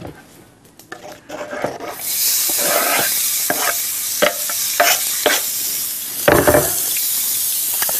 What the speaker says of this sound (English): we can saute up these beautiful onions sitting right here